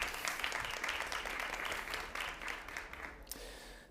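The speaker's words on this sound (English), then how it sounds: "Please welcome, with a warm round of applause, Jan Hegewald, VP Engineering at SumUp." Sustained audience applause welcoming a speaker to the stage at the Digitale Leute Summit 2024 tech conference, a dense steady wash of clapping that fades toward the end.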